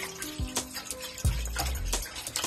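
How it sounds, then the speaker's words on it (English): Boxed broth pours into a pot for a one-pot chicken and bacon Alfredo, giving a brief splashing, gurgling stream of liquid lasting a couple of seconds with no voices. "Now I'm gonna pour in the first of the broth in here"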